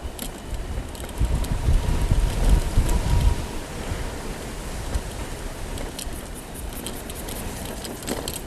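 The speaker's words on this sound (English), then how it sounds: "Gets very windy" Blustery wind buffets the microphone during an e-bike ride, heaviest in the first few seconds, then settles into a steady rushing roar with occasional gusts.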